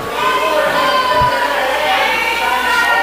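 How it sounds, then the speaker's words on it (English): A wrestling arena crowd at a BCW event yells and shouts at a wrestler to get in the ring, a dense continuous wall of many overlapping voices with higher-pitched shouts and cheers throughout. "They are yelling at Kane to get in the ring."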